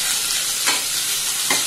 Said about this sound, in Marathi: आणि शिमला मिरची भाज्या तेलात फ्राय करून घेऊया।